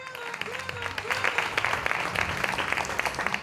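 Audience applause at the TU-Night 2020 final gala builds and swells into a thick, sustained wash of clapping, with a voice briefly audible at the start.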